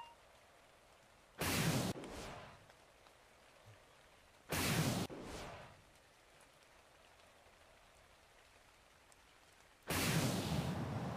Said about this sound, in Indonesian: Ada hujan.